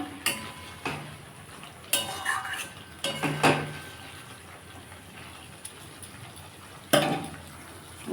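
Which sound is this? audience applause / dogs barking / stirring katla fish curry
stirring katla fish curry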